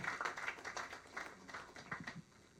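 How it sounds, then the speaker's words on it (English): Faint applause from a forum audience, scattered hand claps rising and falling in uneven clusters for a couple of seconds at a distance. "Round of applause for Ambassador Alachi"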